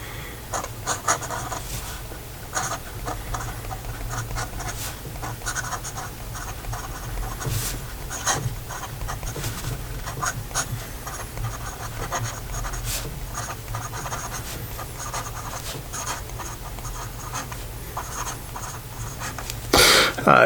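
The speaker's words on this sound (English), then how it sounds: "So here we go with the rest of the writing sample." An 18k gold medium-nib fountain pen scratches steadily across paper, close and quiet, with continuous fine rubbing strokes and brief pauses over about twenty seconds.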